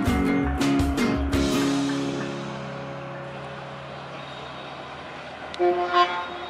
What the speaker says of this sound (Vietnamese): Đó là tiếng còi thứ hai rồi đó mọi người.